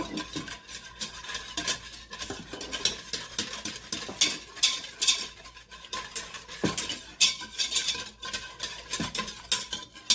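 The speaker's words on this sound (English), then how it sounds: "I'm going to kind of whisk this in so it's nice and blended in" A whisk scraping and clinking against a pot as yogurt starter is blended into milk for homemade Instant Pot yogurt, quick irregular metallic taps and swishes, close and fairly quiet, with no talking.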